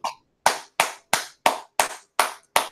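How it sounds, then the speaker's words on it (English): One person claps alone, eight sharp, evenly spaced hand claps in a slow steady rhythm with silence between each, close and distinct. "I want to give a round of applause"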